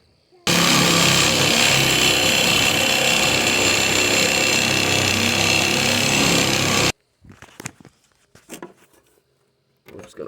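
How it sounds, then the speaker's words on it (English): Reciprocating saw cutting out a leaf spring bracket ring on a pickup truck, a loud, steady buzzing cut lasting about six seconds, then stopping, followed by a few scattered clanks and scrapes of metal. "then to get that last ring out, I'm just gonna sawzall it out of the way."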